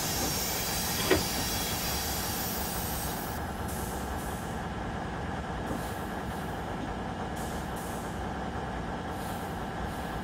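An ICE-TD train on the Hamburg–Lübeck line in Train Simulator 2016 rolls along with a steady, continuous rumble. A thin wheel squeal rides over the hum throughout, with no talking.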